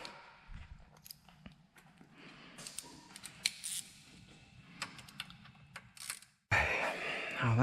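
Small mechanical clicks and ratcheting from T20 Torx screws being worked loose on the cap of a Slick aircraft magneto on a PA28, close and intermittent, with a louder burst of handling noise near the end, no talking.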